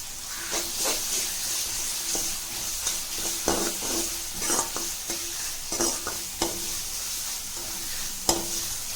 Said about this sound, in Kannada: ಇವೆಲ್ಲವನ್ನು ಚೆನ್ನಾಗಿ ಫ್ರೈ ಮಾಡ್ಕೊಳ್ಳಿ, ಹಸಿ ವಾಸನೆ ಹೋಗೋವರೆಗೂ